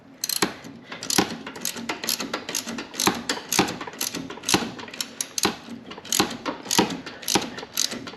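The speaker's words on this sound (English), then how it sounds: "We'll take this pulley off." A 17mm wrench works a pulley off a John Deere lawnmower with rapid, regular ratcheting clicks, sharp metallic ticks repeating close up for several seconds.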